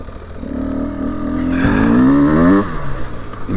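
A 2024 Beta 300 Race Edition dirt bike engine revs up close on a cold 22°F ride, climbing steadily in pitch to a loud peak before dropping back to a rough, lumpy idle.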